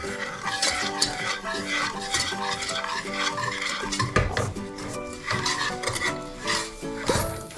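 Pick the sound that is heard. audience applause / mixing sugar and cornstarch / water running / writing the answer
mixing sugar and cornstarch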